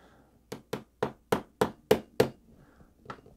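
Seven sharp, evenly spaced taps ring out close by as drone parts are knocked into place on a micro racing drone build, followed after a pause by one fainter tap, with no talking.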